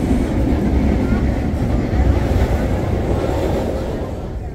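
A steady, dense rumble and rattle of a passenger train rolling fast along the rails after leaving Rancaekek station, Indonesia, loud and continuous from inside, with no clear talk.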